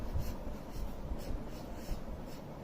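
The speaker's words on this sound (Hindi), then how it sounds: "हम इस ड्राइंग शीट पर कुछ लिख कर देखते हैं।" Pen strokes scratch across a drawing sheet in a soft, steady rhythm of short rubbing sweeps, close and faint, with no one talking.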